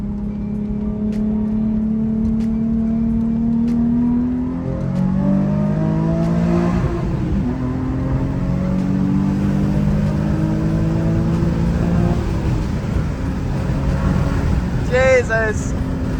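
A car accelerates up a highway on-ramp, its engine note climbing through several rising gear pulls with steady road roar underneath, and a brief voice breaking in near the end.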